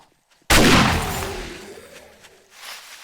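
A single loud, close shotgun blast in the 7 Days to Die video game, hitting sharply and then decaying into a long rumbling tail.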